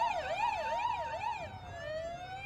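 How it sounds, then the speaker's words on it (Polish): Emergency vehicle siren in a farming simulator game during a fire brigade operation after a gas cylinder explosion, a wailing tone sweeping up and down, then shifting to a steady held pitch, moderately distant and alone. "Jest ta jeszcze ta syrena w tle."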